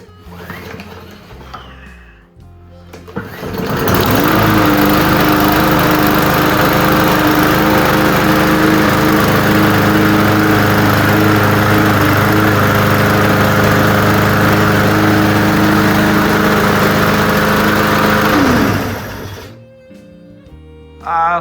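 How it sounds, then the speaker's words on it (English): A scrapped lawnmower engine with a freshly cleaned carburetor catches and runs, a loud steady buzzing drone that holds for about fifteen seconds before cutting off, close to the listener, with handling noise before and after. "So now we're gonna see if it'll start now that we've cleaned that carburetor out."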